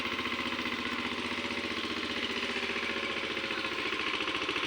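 Engine of a hand-operated tractor stuck in a waterlogged pit, chugging steadily at idle with a continuous rhythmic thump, close and fairly loud throughout without talk.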